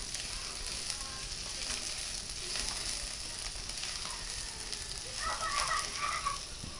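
Onion and garlic stir-frying in a pan for chow fan, a steady close sizzle with scattered crackles and a few brighter spitting bursts toward the end, no voices.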